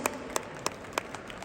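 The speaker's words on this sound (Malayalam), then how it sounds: "ജസ്റ്റ് ഡാൻസിന്റെ ഒരു നല്ല കൈയടി." Audience applause for the Just Dance group at an Abu Dhabi event, heard as a steady wash of clapping with a few sharper claps standing out, moderately faint and fairly distant.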